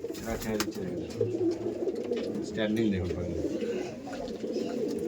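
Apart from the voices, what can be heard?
Madrasi pigeons cooing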